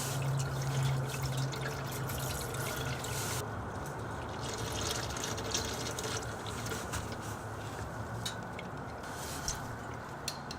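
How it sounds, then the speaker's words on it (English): Engine oil drains from a Lexus LX570 into a drain pan in a steady, close splashing trickle that holds at the same level throughout, with no talking. "you're ready to grab your drain pan and begin draining the oil"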